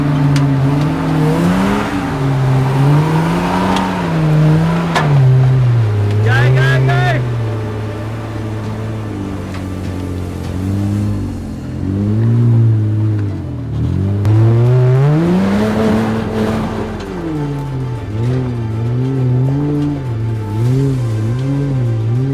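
A Nissan GU Patrol 4WD engine drones and revs steadily off-road, its pitch rising and falling as the throttle swells and eases, loud and close throughout, with occasional rattles over rough ground.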